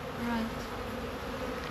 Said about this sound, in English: There's bees everywhere now.